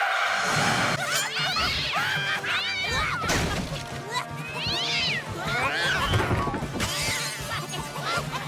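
Cartoon cat meows and caterwauls repeatedly over a busy, loud mix with crashes and a voice or two, the meows rising and falling across the whole stretch.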